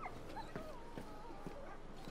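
A dog in Final Fantasy XVI gives soft, high whimpers and a few short yips, faint and close, over quiet game ambience.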